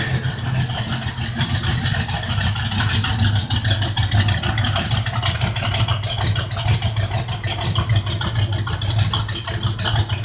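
A 1976 Pontiac Trans Am with a 455 V8 bored .030 over and a Summit 2 1/2-inch exhaust idles after a cold start. The steady, loud, close rumble holds evenly throughout with a fast, lumpy pulse.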